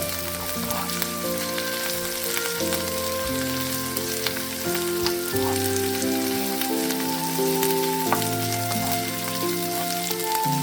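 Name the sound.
cabbage stir-frying in a pan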